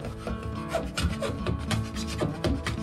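Blade shaving the protruding bevel off an EvoCore herringbone LVT click flooring board, heard as a series of short rasping scrapes in an uneven rhythm, close and fairly quiet with no talk.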